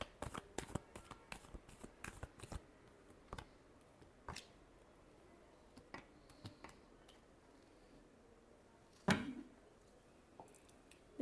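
Tarot cards being shuffled give a rapid run of crisp, close riffling snaps, then scattered softer shuffles and one louder card slap near the end, with no talk.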